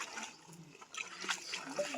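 Light splashes and patters of water being sprinkled in short bursts while making organic fertilizer, close by and fairly quiet, with faint room noise between them.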